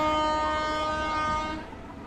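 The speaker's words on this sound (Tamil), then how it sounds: "ஐ ட்ரெயின் வந்துச்சு." A train horn blares steadily and loud at close range as the train rolls past, then cuts off and leaves a lower rumble of passing rail cars.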